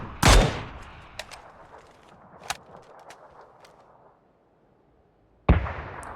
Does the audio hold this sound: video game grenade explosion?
yes